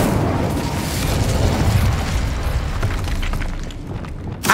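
Roaring burst of a fire spell, Incendio, cast in Hogwarts Legacy, a dense whooshing blaze that sustains for several seconds and ends with a short pop, no voices over it.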